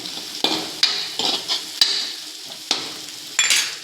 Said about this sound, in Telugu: వెల్లుల్లి, జీలకర్ర అండ్ మిరియాలు ఇది బాగా ఫ్రై అవుతుంటే